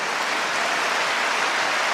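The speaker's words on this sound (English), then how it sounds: "Crowd applauding." Spectators at a men's singles table tennis final applauding, a continuous even patter of clapping from a large indoor crowd with no voices standing out.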